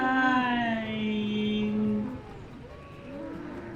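A cow moos in the video game Nancy Drew: Secret of the Old Clock, one long loud low bellow falling away after about two seconds, followed by a quieter second call.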